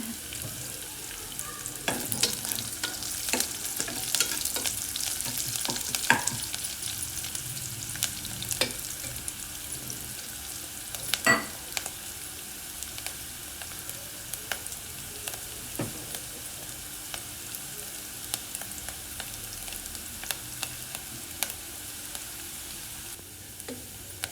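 Onions frying in a pan, a soft steady sizzle with scattered sharp crackles and occasional stirring clicks, fairly quiet and without talk.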